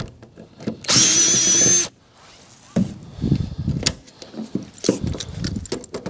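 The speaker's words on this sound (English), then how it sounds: "That one needs drilled." A power drill whines loudly for about a second while boring through a panel on a Knight Rider trailer being re-skinned. Scattered clanks and handling knocks follow.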